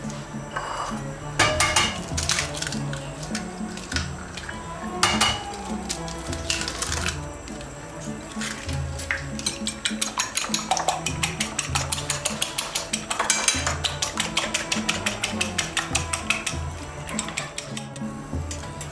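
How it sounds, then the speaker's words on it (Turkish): Eggs being whisked in a bowl, for frying rolled güllaç pastry during Ramadan cooking, produce rapid, repeated metallic clicks and clatter against the bowl, loud and close, in uneven bursts with brief pauses and no talk. "Isınırken biz de yumurtalarımızı çırpalım."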